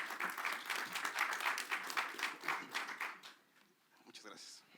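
Audience applause after a seminar presentation on urban-regional economics, a lively burst of clapping from a modest crowd that thins and fades toward the end, with some voices mixed in.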